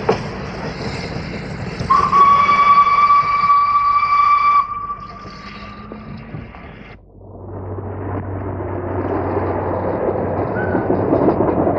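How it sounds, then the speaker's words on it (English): A British slate train runs downhill on gravity, heard as a rumble of rolling wagons under a loud, sustained steam whistle that cuts off midway, followed by a quieter, steady rolling rumble. "the slate train, now working on gravity,"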